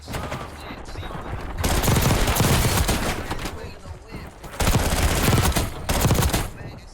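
Loud bursts of rapid PPSh submachine gun fire ring out in the video game Call of Duty: Warzone, several long sustained volleys separated by brief pauses and heard close up.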